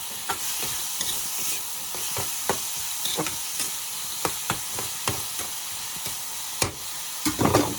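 Aloo posto, potatoes in a poppy seed paste with a ground twelve-spice mix, frying in a pan with a steady broadband sizzle, broken by repeated sharp scrapes and clicks of stirring, no voices.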